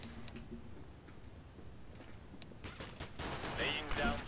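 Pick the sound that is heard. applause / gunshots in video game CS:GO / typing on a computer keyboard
gunshots in video game CS:GO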